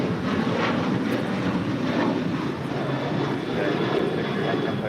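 Airliner taking off from runway 25 right at LAX, a loud continuous roar of jet engines filling the air with steady broadband rumble, faint voices beneath.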